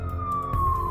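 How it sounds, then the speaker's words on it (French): A single sustained wailing siren tone, police or emergency vehicle, slowly falls in pitch over under a second and sounds fairly close above low rumbling traffic. "À cet instant, des sirènes retentirent"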